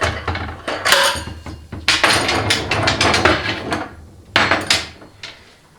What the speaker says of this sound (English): So I'll just take my slide hammer and then I'll wrap it out.